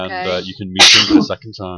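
A single loud sneeze bursts out close to the microphone in a radio studio, framed by someone talking just before and after it.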